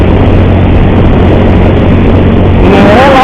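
A motorcycle engine with a strange noise runs loud and close in a constant, rough rumble, its pitch lifting slightly near the end, with no voices.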